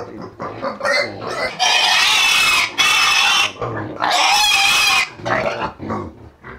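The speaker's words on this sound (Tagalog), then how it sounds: "Kasi kung sama-sama, na-stress po yung baboy." Pigs being moved into a new pen squeal loudly in repeated sharp bursts, broken by shorter grunts and snorts, close to the listener.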